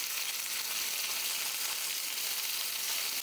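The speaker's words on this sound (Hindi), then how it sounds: "गैस का फ्लेम मीडियम करके हम प्याज को फ्राई करेंगे जब तक प्याज का कलर अच्छे से चेंज ना हो जाए।" Thinly sliced onions frying in a pan over a medium gas flame give a dense, even hiss of sizzling oil, constant and close for the whole stretch.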